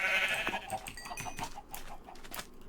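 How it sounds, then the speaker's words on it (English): Sheep in the Minecraft video game bleat in a quick burst of short, fairly loud calls, heard close up over a few seconds with no talk. "let me kill a couple sheep here to get some wool."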